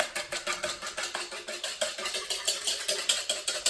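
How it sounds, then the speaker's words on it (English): A whisk beats a French toast egg mixture made without yolks in a bowl, producing quick, steady, rhythmic strokes that repeat several times a second, close and fairly quiet. "So you just have everything together and just whisk."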